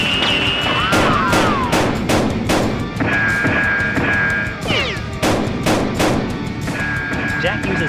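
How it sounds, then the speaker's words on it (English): Toy Nerf blasters fire in rapid bursts during a staged police SWAT versus criminals shootout, a loud, dense string of sharp pops and clacks close by, with whistling tones weaving between the shots. "Enraged, the remaining criminals fire wildly at the SWAT officer."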